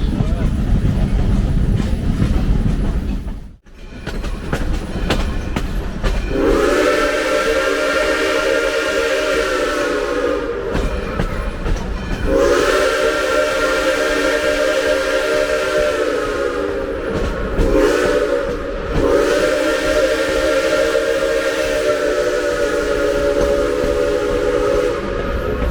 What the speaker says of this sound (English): Our locomotive pulling our train today is old number 60.